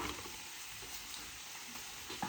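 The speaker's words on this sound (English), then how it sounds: "meat is cooking and warming through" Meat sizzling steadily in a hot pan for a toastie, a dense, even hiss with faint crackles throughout, close and moderately loud, with no voices.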